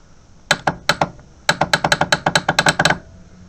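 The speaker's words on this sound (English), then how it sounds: "Yeah, it's clicking" Sharp clicking from inside a Suzuki Intruder motorcycle with a no-crank, no-start fault: a few separate clicks, then a quick run of about a dozen close, crisp clicks, with no talk.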